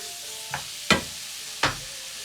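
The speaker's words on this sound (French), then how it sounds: "Là, ça commence à bien cuire les artichauts. On va ajouter la farce de poisson dedans." Artichokes frying in a pan as fish stuffing is stirred in, a steady hiss under three sharp scraping stirs of the spoon against the pan.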